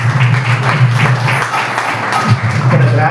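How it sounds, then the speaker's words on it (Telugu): An audience at a church graduation and promotion program applauds with steady, sustained clapping from a crowd, moderately loud, mixed with a low hum of voices. "సో వీళ్ళందరికీ మనం గట్టిగా చప్పట్లు కొడదాం"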